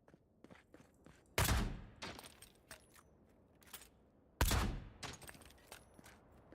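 Two loud bursts of the magic missile gun in Avowed, each a sharp rushing blast about three seconds apart, with quieter scuffs and steps between them and no voices.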